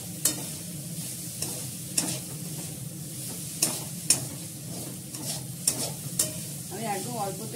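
Chow mein stir-fried with carrot, capsicum and chopped green chilli in a little oil in a kadai, a steady close sizzle broken by repeated scraping and tossing strokes of a spatula against the pan.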